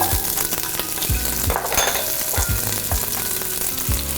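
Celery sizzling in olive oil for a seafood stock, a constant bright crackling fry with regular scraping stir strokes, close and clear.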